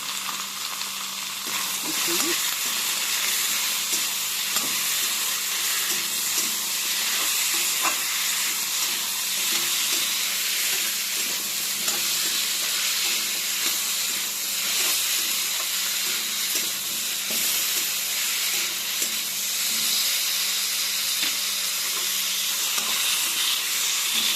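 Cumin seeds and turmeric powder in hot oil give a close, steady sizzle and hiss that runs unbroken for the whole stretch, with faint occasional clinks and no talking.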